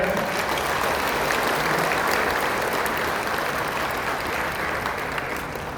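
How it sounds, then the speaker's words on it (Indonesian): Steady, dense applause from a large audience at a company's 50th anniversary celebration, sustained at full strength and easing slightly toward the end. "Tanpa mungkin bisa beri tepuk tangan untuk Bapak saya."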